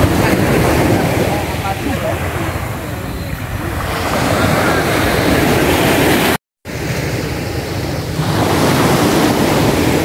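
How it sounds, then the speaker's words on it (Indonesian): Ocean surf rolls onto Sari Lestari beach in Banyuwangi, a loud, continuous wash of breaking waves mixed with heavy wind buffeting, briefly cut out for a moment before resuming. "akhirnya sampailah kita di Pantai Sari Lestari"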